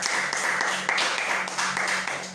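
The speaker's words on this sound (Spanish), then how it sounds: "Dele palmas al rey." Church congregation clapping in rhythm, a steady run of fairly quiet claps across a short stretch, with no talk.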